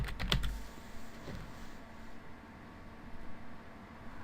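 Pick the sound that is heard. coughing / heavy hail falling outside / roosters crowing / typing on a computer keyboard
typing on a computer keyboard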